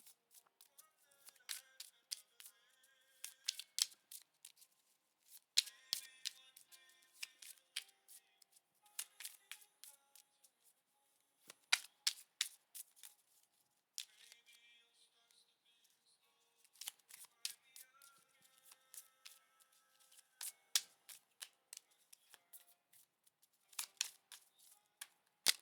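Moonology oracle cards are handled and shuffled close up, giving bursts of crisp riffling and slapping cardstock separated by short quiet gaps, fairly faint, with no talking.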